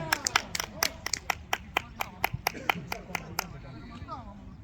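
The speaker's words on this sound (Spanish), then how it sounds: "Para calentarme las manos, aplaudo" A single person claps their hands to warm them at a Beltane fire event, about fifteen sharp, fairly even claps close by, with some talk and background noise underneath before the clapping stops.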